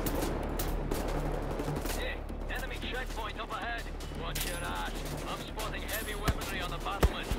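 Laser cannon gunfire rattles in dense, continuous bursts during Wolfenstein: The New Order gameplay, mixed with game effects, with a few sharper shots near the end and someone talking over it.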